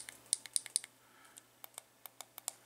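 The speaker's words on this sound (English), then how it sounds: "nice clicky buttons" Buttons on a Dovpo Topside dual squonk vape mod are pressed in quick clicky bursts, a run of close, crisp clicks followed by a few spaced presses.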